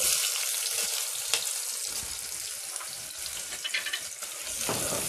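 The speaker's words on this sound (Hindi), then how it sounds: "प्याज को फ्राई करेंगे।" Onions sizzle and fry in about three tablespoons of hot oil as the base for masala bhindi, a continuous close crackling hiss with brief louder spits and stirring, and no voices.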